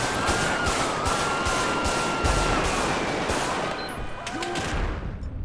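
GTA 5 gunfire during a first-person police patrol shootout, rapid overlapping automatic bursts and single cracks in a loud, sustained volley that eases slightly near the end.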